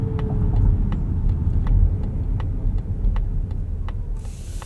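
A 2025 Mazda CX-50 Hybrid cruises along the road, its cabin filled with a steady low rumble of tyres and engine, punctuated by regular faint ticks.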